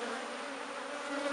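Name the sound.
bees buzzing at a hive during robbing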